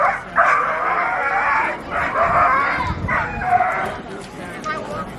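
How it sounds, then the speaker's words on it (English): A small Shih Tzu dog gives a few short, yappy barks at an outdoor festival, heard in bursts under nearby conversation and background chatter. "What kind of little dog is that? She's a Shih Tzu."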